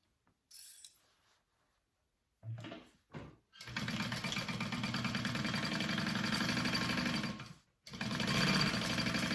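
Sewing machine running a half-inch seam along the top edge of a Meraki backpack panel, a short start-stop burst followed by a long steady mechanical whir, a brief pause, then resuming, close and alone.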